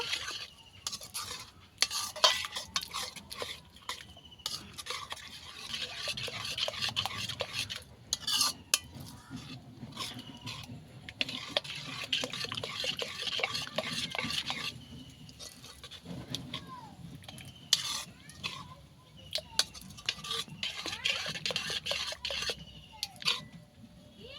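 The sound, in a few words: stirring rice-flour batter with chopped coriander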